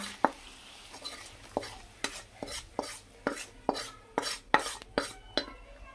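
Rice being stirred in a pan with whole spices (bay leaf, cardamom, cloves, mace) and chopped ginger for a homestyle veg fried rice, giving a dozen sharp spatula scrapes and clinks in an uneven rhythm over a soft sizzle, close and alone.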